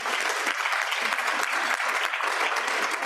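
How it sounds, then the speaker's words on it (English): Audience applause at a Rotary club meeting, a steady wash of many hands clapping indoors, fairly close and even throughout with no talk over it. "Our club is extending the matching points program to March 31st. Please applaud that."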